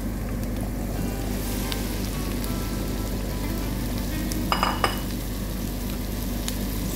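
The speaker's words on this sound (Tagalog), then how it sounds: "Lagyan natin ang ating mixed vegetables." Mixed vegetables and onions fry in a pan with a steady, close sizzle throughout, broken near the end by a couple of sharp utensil clinks against the pan.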